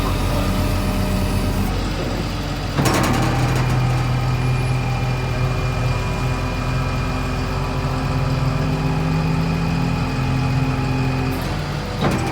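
Rollback tow truck engine idling steadily and loud nearby while a Porsche 944 is loaded, a continuous low rumble with a brief mechanical clunk near three seconds and another near the end.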